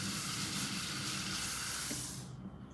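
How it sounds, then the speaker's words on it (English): A paint brush is rinsed in water, giving a steady, close rushing splash that fades out near the end. "Let me just rinse my brush here."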